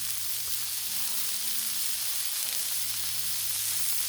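Fresh-ground brisket burgers sizzle on a Blackstone griddle outdoors on a chilly day, a steady, even hiss of frying that holds close and constant throughout with no talking.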